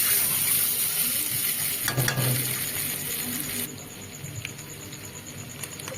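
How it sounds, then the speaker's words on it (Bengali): Fried potatoes stirred in a pan for achari aloor dum, a steady close sizzle broken by a few scraping spoon strokes, a brief louder scrape near the middle, with no talking. "ভেজে রাখা আলুগুলো এবার দিয়ে দিলাম এবার একটু ভালো করে নেড়ে নিতে হবে"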